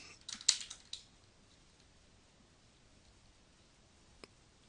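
Someone types an HTML comment on a computer keyboard, a quick cluster of light key clicks near the start followed by a single faint tap near the end, in a quiet room.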